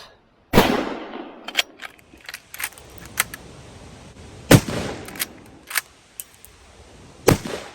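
Reloaded rounds fired from a gun at a Jeep camping outing: a few sharp, loud shots spaced seconds apart, separated by small metallic clicks and handling noises, close by and with no talking.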